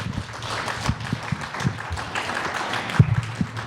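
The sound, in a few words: audience applause after a song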